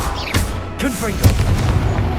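A Confringo fire spell bursts in Hogwarts Legacy, a loud booming blast with crackling tail over game effects, a voice speaking the incantation alongside.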